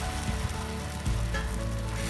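Mushrooms dropped into a pan of cooking ghee roast paste sizzle loudly and steadily, a continuous close frying hiss with a brief burst partway through as they hit the hot fat.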